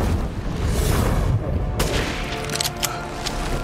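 Gunfire from the video game Resident Evil Village: a dense rumble of shots with a sharp crack partway through, then several quick, crisp reports that follow closely.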